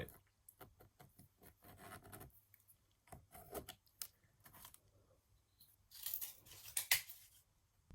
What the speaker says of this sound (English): now I've cut these little pieces of cardboard out